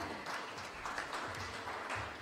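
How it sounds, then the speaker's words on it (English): Faint, steady applause from a seated audience at a youth conclave on climate change, a soft wash of clapping welcoming a guest onto the stage, distant and even throughout. "Let's have a round of applause and welcome Madam as well."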